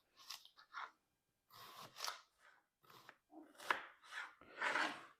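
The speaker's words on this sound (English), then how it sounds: "I'm going to slice up a couple of large shallots" A knife slicing large shallots on a board, a series of crisp, crunchy cuts heard up close in irregular bursts separated by brief silences.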